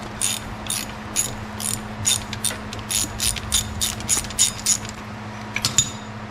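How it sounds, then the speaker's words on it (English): A ratchet works a half-inch shouldered bolt loose on a 1966 Chevy C30 dually truck, with a rapid, steady run of close metallic clicks in short bursts and no talk. "Just gonna pop this 1/2-inch bolt out."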